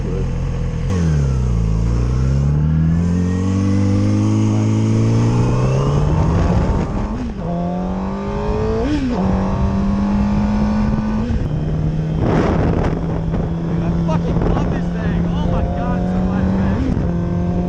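Yamaha R6 sport motorcycle engine, rebuilt, revving up and down in long swoops, then settling into a loud, close, steady idle with a few sharp throttle blips.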